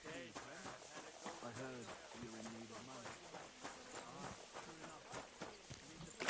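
A horse's hooves walk at a steady clip-clop in the medieval game Kingdom Come: Deliverance 2, moderately close and partly masked by someone talking over them throughout.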